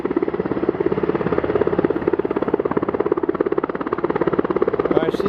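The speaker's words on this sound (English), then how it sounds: "See if they can hold the helicopter straight enough." A helicopter hovers on a practice mission off the coast near Sitka, Alaska, its rotor beating in a rapid, steady thump that stays moderately loud and constant throughout, with a voice speaking over it.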